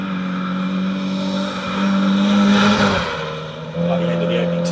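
A Mini rally car driving fast on a Mid Wales forest stage, its engine droning and revving, pitch dropping as it shifts, with a commentator talking over the noise.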